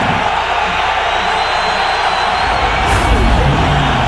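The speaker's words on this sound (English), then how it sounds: "Crowd in full throat from the 23-yard line" A dense, steady roar from a football stadium crowd at a Denver Broncos at Oakland Raiders Monday night game in 2001 stays loud and continuous throughout, with a commentator talking over it.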